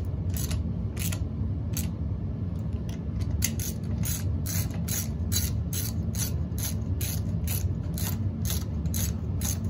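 A ratchet tightens the motor bolts on a Kawasaki KLX110 dirt bike, with a loud, rapid run of metallic clicks in a steady rhythm heard up close and alone.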